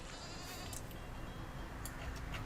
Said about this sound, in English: A sheep just died, I think.